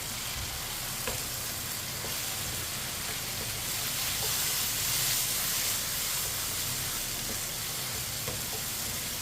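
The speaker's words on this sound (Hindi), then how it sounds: "टमाटरों को मैंने मिक्स कर लिया।" Finely chopped tomatoes and green chillies sizzle in a hot pan for an aloo tori curry, a dense continuous hiss and crackle with faint occasional stirring clicks, close and steady with no voices.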